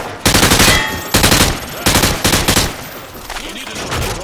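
Automatic weapon fire in Call of Duty: Modern Warfare 2 during a penetration demonstration, several loud rapid bursts of shots separated by short gaps, close and punchy.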